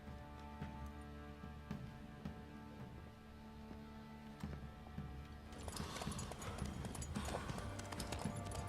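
Horse hooves clip-clop steadily over ground while riding in The Witcher 3, carrying the Bloody Baron, a regular trotting rhythm under game music, growing louder and busier with added clatter in the final seconds.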